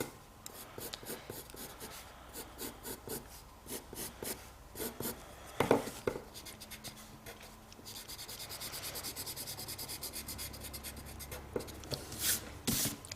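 A pen or pencil scratches and rubs across paper while sketching a cute chibi figure, close and quiet, with short repeated strokes, light scribbling and occasional soft taps.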